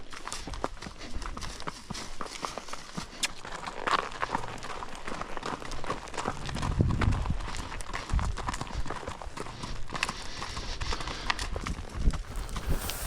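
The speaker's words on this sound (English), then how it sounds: "this is the first time JR's taking Olivia on a trail ride since we've owned her" Hooves of a horse walking on a trail ride outdoors, a steady muffled clip-clop under wind and rustling, fairly close throughout.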